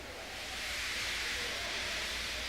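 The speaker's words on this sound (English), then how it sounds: "He just let off steam feebly." A steam engine in the Trainz train game lets off steam feebly, a steady soft hiss that rises slightly and holds without any break.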